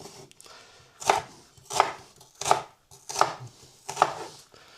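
A knife chops food on a cutting board while ingredients are prepared for chicken chow mein: five crisp, evenly spaced strokes about a second apart, close and clear, with no voices.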